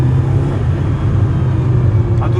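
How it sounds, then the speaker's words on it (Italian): A 1988 Ferrari GTB Turbo on the move, its turbocharged engine giving a steady, heavy low rumble heard from inside the car, with a faint higher tone rising briefly near the end. "La turbina che la sento da qua"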